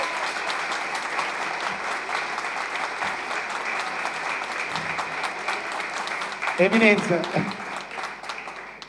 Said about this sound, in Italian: L'applauso al parroco.